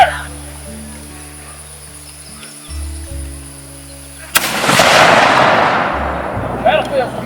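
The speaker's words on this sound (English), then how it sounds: "All right, we're loaded now, so we're going to fire." Guns fired at a historical battle reenactment at Brattonsville, South Carolina: a quiet outdoor hum, then a single sharp loud blast that decays into a long rumbling roll, with faint voices afterward.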